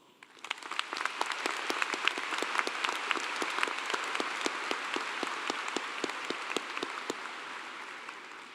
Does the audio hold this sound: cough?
no